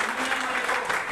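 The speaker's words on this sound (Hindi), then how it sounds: "जोरदार तालियां बजाएं मलिक साहब के" Brief crowd applause at a charitable trust meeting in Narwana, a dense and steady wash of clapping from an audience for a short moment.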